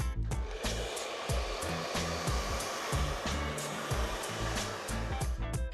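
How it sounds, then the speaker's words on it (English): A hair dryer blows with a loud, constant airy whoosh, its motor pulsing slightly as it moves, with no voices. "We're going to use the heat of the hairdryer to blow dry the hair"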